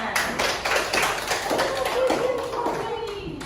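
Classmates clap for a student in a vocational high school classroom, a short burst of scattered hand claps and taps with voices talking over it.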